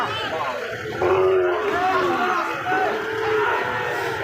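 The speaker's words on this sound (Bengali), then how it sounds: "হাই কোয়ালিটি সব ষাঁড় বাছুর।" Young Sahiwal bull calves moo at a busy cattle market in Joypurhat, low drawn-out calls rising over a murmuring crowd and nearby talk.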